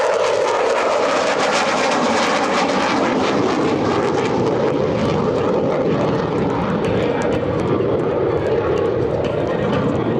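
An F-16C Fighting Falcon fighter jet at an air show demonstration produces a continuous, loud engine roar during a four-point roll, with a broad rushing sound that holds steady throughout.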